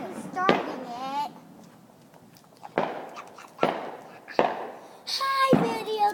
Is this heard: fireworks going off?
yes